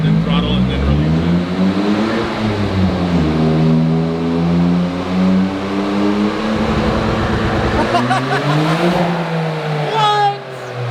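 A tuned 500 whp GR Corolla engine holds a loud rising and falling rev under full throttle, breaks into a choppy fluttering rattle from rolling anti-lag, then climbs again before the throttle is released and the sound drops away.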